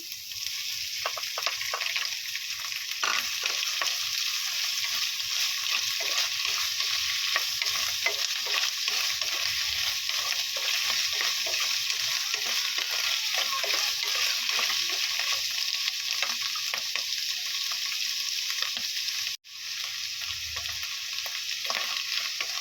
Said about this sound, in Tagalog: ilalagay na po natin yung ating mushroom